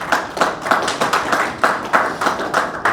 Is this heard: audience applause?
yes